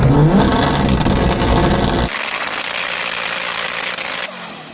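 A 1,000hp all-wheel-drive Honda with a 2-litre engine revs loudly and close. It gives a dense, rough roar for about two seconds, then drops to a steady high-pitched buzzing drone until near the end.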